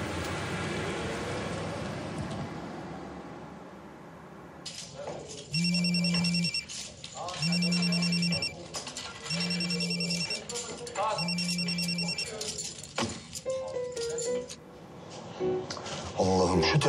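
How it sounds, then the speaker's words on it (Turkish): A telephone bell rings loudly in repeated bursts, four rings in a steady pattern, at a disco setting with background chatter and music; people talk before and after the ringing. "Allah'ım şu telefonunu bir aç ya."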